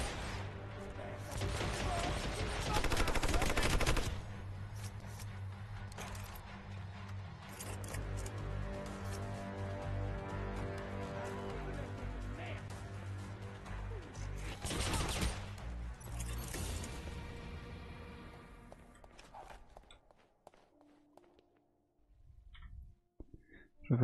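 Dense, sustained volleys of gunfire from the stealth action game Hitman Absolution roar in long stretches, with a brief lull in the middle. The shooting then tapers off into near quiet with scattered faint sounds toward the end.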